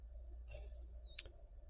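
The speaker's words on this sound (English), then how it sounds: "I'm gonna listen to the birds outside." Birds calling outdoors, a single clear rising-then-falling whistled call followed by a short sharp chirp, faint and mid-distance over a low steady background rumble.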